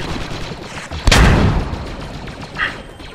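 Called-in artillery barrage in the Star Wars mod Squad Galactic Contention, one loud booming impact with a long rumbling decay, followed by a fainter distant blast.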